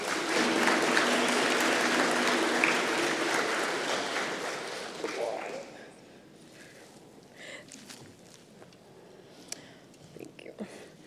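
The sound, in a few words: audience applause at an award ceremony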